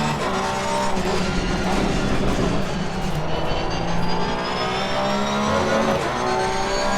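Racing cars in an Xbox Series X driving game roar continuously with engines revving and tires skidding through corners, a loud, steady stream of motor noise with no talking.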